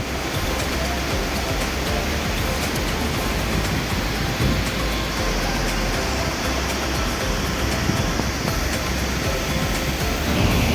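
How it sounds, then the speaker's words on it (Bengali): Rainbow Waterfall near Darjeeling falls from a great height, and the water makes a loud, dense, unbroken roar close by. "আমি চলে এসেছি রেনবো ওয়াটারফলের সামনে দেখতেই পাচ্ছ কত উপর থেকে জলটা পড়ছে"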